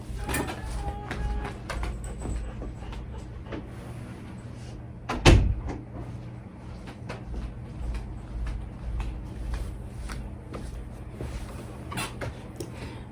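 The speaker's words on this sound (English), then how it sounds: "I'm going to close the door." A single door closing indoors, a sharp thud standing out against quiet room tone.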